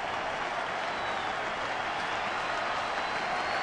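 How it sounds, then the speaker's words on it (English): A baseball crowd on its feet roars and applauds in a steady, dense wash of clapping and cheering that fills the stadium. "Crowd on its feet."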